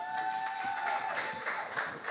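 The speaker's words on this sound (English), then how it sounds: "Give a huge round of applause here for Keith Nunley." An awards-ceremony audience applauds for Keith Nunley, with soft, fairly distant clapping and light cheering held steady through the moment.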